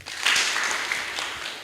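An audience claps at an MCA candidates' debate in Baringo, Kenya: a short burst of applause that swells quickly, then tapers off with scattered claps.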